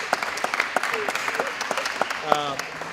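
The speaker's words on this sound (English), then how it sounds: "Everyone show your hands, girls, clap up for the girls right here." Scattered clapping for a fifth-grade girls' basketball team at a basketball group celebration, uneven and fairly close, mixed with chatter and voices in the room.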